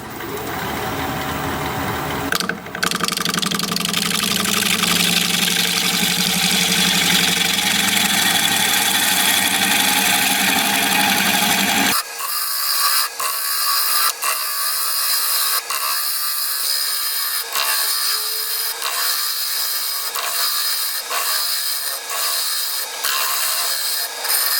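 A wood lathe turns a walnut bowl blank through its bark, giving a loud continuous scraping rub over a steady motor hum, which then gives way to a thinner whir with regular light ticks as the tool cuts.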